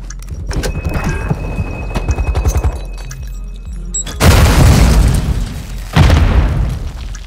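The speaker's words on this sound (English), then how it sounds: "Stand by to detonate." A detonation explosion in the Call of Duty video game: after rhythmic thumping game sounds, a loud, broad booming blast erupts, followed by a second heavy burst a moment later, close and filling the mix.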